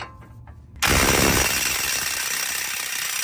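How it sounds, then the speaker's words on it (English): A battery-powered impact drill hammers on a large 30 mm bolt on a Toyota CV axle, bursting in abruptly after a quiet moment and rattling loudly and continuously up close. "my battery powered impact drill doesn't have enough strength to remove this"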